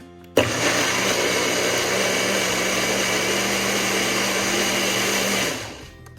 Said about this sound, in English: or you can use a blender